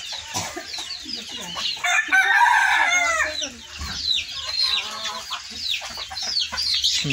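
Crested hens and a red-combed crested rooster cluck busily and crow close by, a dense, overlapping chorus of fowl calls that continues throughout.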